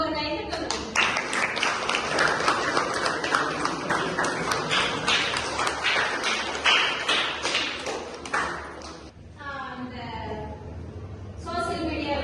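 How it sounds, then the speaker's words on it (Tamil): Applause and clapping from a classroom audience of IT students at an educational event, a dense sustained burst of many hands lasting about nine seconds before it thins out, with a voice speaking at the end. "சரி, உங்களுக்கு ஒரு கைத்தட்டல்."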